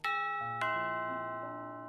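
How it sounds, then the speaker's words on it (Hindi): A doorbell chimes with two clear ding-dong tones, bright and close, each note ringing out and slowly fading with no voices over it. "तभी दरवाजे पे घंटी बजती है"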